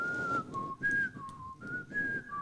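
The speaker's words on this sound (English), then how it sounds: "whistling a tune." Someone whistles a simple, steady tune alone, clear sustained notes stepping between a few pitches in short phrases, fairly faint over a soft background hiss.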